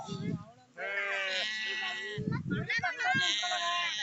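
A flock of sheep bleating in an open paddy field near a village, with several loud, wavering calls in close succession, overlapping nearby human voices.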